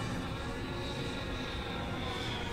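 A small aircraft flies in the Star Wars Battlefront video game, its engine producing a steady, loud whooshing drone that holds evenly throughout.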